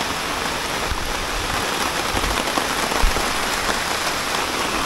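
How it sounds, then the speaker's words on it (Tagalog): Heavy rain pours down at a nature campsite in Laguna in a dense, steady hiss, close and loud, with no voices. "Lumakas si ulan."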